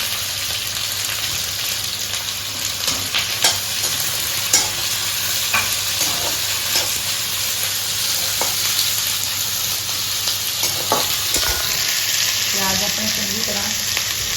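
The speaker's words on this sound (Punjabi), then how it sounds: "ਇੱਕਦਮ ਭੁੰਨਣਾ ਹੈ ਆਪਾਂ ਪਿਆਜ਼ ਭੁੰਨ ਕੇ ਫਿਰ ਬਾਕੀ ਚੀਜ਼ਾਂ ਆਪਾਂ ਦੱਸਾਂਗੇ" Onions frying in oil with fennel seeds in a pan for restaurant-style paneer sabzi, giving a continuous loud sizzle with stirring scrapes and occasional spoon taps throughout.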